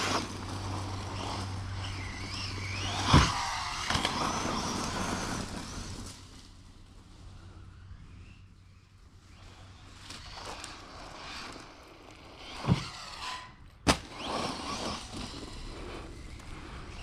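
A Losi DB10 Pro RC buggy with a 2400kv brushless motor on 3S drives outdoors, its electric whine rising and fading as it passes, with a few sharp knocks and impacts, fairly faint overall.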